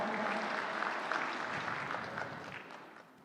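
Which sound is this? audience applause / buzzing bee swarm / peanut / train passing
audience applause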